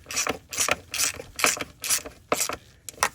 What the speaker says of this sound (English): And go ahead and tighten down our clamp.